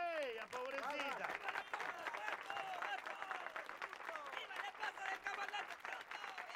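Wedding ceremony guests applaud in a steady mass of clapping mixed with cheering voices and overlapping talk, filling the whole stretch at close range.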